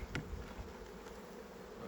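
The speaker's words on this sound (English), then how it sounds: "all you do is you smack off a frame of bees and really piss them off" Agitated honey bees knocked loose from a hive frame buzz in a low, steady drone close by, with a brief thumping knock near the start and no voices.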